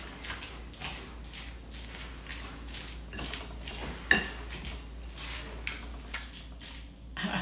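A spoon works through Obatzda, a German beer cheese dip, in a bowl, giving soft repeated scraping and squishing strokes at an even pace with one sharper clack partway through. The sound is close and quiet, and no one talks.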